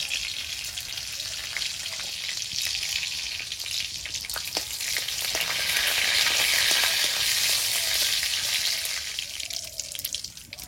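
Dried red chilies and whole cumin seeds fry in hot oil in a wok, giving a continuous, fairly loud crackling sizzle that swells slightly midway, with a few faint stirring knocks.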